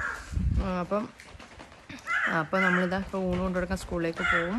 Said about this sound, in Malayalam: ഭയങ്കര ഡാർക്ക് ബ്ലാക്ക് ആയിട്ട് ഒരു കാക്ക